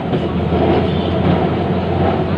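A Kolkata tram rumbles steadily along its rails nearby, a loud, continuous low roar with faint metallic clatter.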